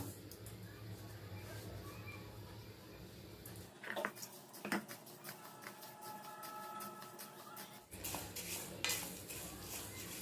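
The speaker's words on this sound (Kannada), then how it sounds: "ತೊಗರಿಬೇಳೆ ಮತ್ತು ಹೆಸರು ಬೇಳೆ ಎರಡು ಸೇರಿಸೇ ಹುರಿತೀನಿ ನಾನು" Toor dal and moong dal dry-roasting together in a pan, a steady dry rustle and hiss with scattered metallic scrapes and clinks of a spoon stirring against the pan, fairly faint with background noise throughout.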